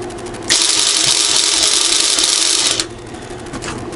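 A Sealy MIG welder's wire feeder motor whirs steadily for about two seconds with a bright mechanical buzz, then cuts off, leaving a low hum and faint rattle.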